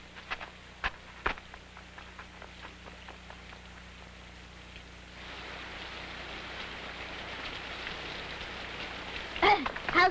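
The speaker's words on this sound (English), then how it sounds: "It started to rain." Rain patters steadily in an animated scene, faint at first and thickening after midway into a denser, hissing downpour, with a few brief sharp taps and sounds near the end.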